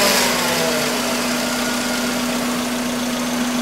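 A car engine idling with a restricted exhaust, a steady low, slightly rough drone and a constant hum, continuous throughout with no talking.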